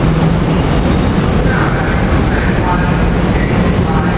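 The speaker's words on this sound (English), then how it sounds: "Here we had the West Trenton train coming in," A West Trenton commuter train pulls into 30th Street station at rush hour with a loud, steady rumble and faint squealing tones partway through.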